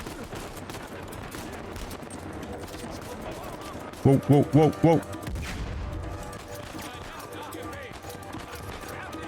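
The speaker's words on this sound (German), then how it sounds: "Wo kommt dann jetzt schon wieder die Schüsse her?" Burst of four or five rapid gunshots in the video game Uncharted 4, loud and close in a short cluster, over a constant game background with someone talking.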